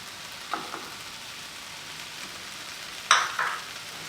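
Vegetables with oats sizzle quietly in a pan for a Spanish omelette, a faint steady frying hiss broken by a few sharper spatula scrapes near the end.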